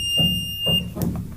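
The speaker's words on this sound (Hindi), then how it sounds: "आप सभी को पता है कि कंटिन्यूटी के अंदर मल्टीमीटर में से एक बीप सुनाई देती है।" A multimeter set to continuity mode gives a steady, high, pure beep that holds unbroken through the whole moment, with faint low handling noise underneath.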